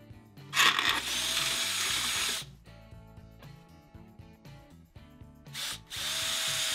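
A power drill bores a hole to mount a heavy duty solenoid on a Club Car Precedent golf cart, with two loud, steady whining bursts separated by a quieter stretch.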